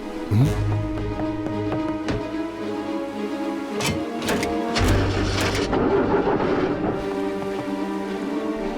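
In a cartoon, a boat engine sputters and strains after its propeller tangles in seaweed, giving uneven chugging and rattling bursts over a constant mechanical drone.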